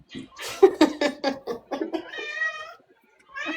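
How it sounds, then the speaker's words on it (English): A cat named Jackie meows close by, a run of short chirpy cries building into a longer drawn-out meow, then a brief pause before another call begins. "I hear Jackie meowing at me."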